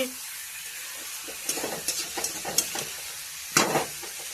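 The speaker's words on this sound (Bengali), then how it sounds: "চিকেনটা দেওয়ার পর তারপর একটু নড়িয়ে নিচ্ছি" Chicken pieces stirred in a hot pan with a soft sizzle, scraping and clattering strokes arriving in short bursts, with one louder scrape near the end.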